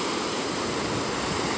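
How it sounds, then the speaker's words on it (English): Ocean waves wash steadily onto a beach under renourishment, a continuous broadband surf hiss with no distinct breaks over the short span. "it's interesting watching the waves."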